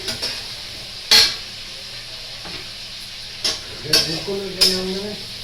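Oil heating in a kadai (wok) on a gas stove before cooking banana flower, a low soft sizzle under sharp utensil clinks and scrapes that come in several separate bursts.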